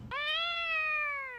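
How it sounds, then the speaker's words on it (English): A cat meows once, loud and close, a single drawn-out tonal cry held steady for over a second; the cat is Jiji from Kiki's Delivery Service. "Why are you talking like a cat?"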